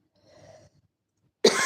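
A single harsh cough from a dry throat bursts out loudly after faint breathy sounds and a near-silent gap.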